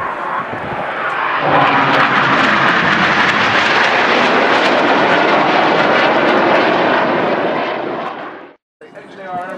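A loud Red Arrows display jet roars overhead at an air display in Jersey, swelling quickly and holding strong for several seconds before dropping away abruptly.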